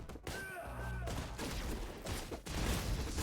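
Enemy gunfire in the action game Katana Zero, a sudden shot followed by a rapid burst of gunfire. The shots come over steady game noise and music with no talking.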